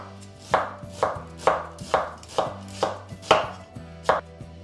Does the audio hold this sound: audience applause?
no